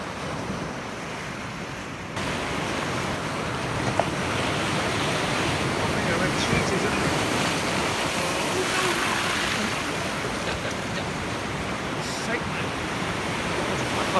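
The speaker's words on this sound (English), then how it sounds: "I can see there was big waves coming in, but goodness me, yeah, look at the surprisingly big rollers coming in here" Big ocean rollers break and wash onto the shore at Anstruther, a loud, continuous roar of surf mixed with heavy wind buffeting the microphone.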